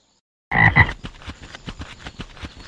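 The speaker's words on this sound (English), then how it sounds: "Hello, Mr. Frog" A frog gives a loud, close croak, followed by a run of softer rhythmic croaks that fade over about two seconds, heard alone without talk.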